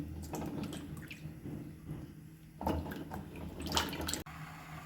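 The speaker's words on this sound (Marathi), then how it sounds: "अशा पद्धतीने आपण व्यवस्थित 2 पाण्याने धुवून घेणार आहोत हे आवळे" Water splashes and sloshes in irregular bursts as Indian gooseberries are rinsed by hand, with a couple of louder swishes toward the end.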